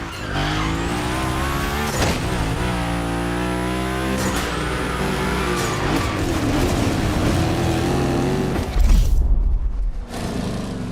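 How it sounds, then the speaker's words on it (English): A 3100 big block edition car in The Crew Motorfest gymkhana roars and revs loudly, its engine note rising and falling through shifts while tires squeal and skid, with a brief louder burst near the end. "They're both powered by the same big block engine."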